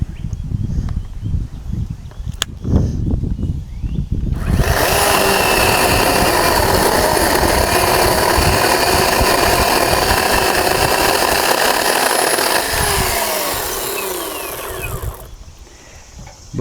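A MechMaxx 32 sawmill powers up and saws through an odd-shaped cedar log, its engine rising from idle to a loud, steady roar for about ten seconds before easing back down near the end.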